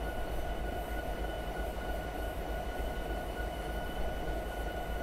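Long freight train of around thirty carriages rolling along in Train Simulator 2018, a steady rumbling roar with faint high tonal whine from wheels and motor, continuous and close, no talk.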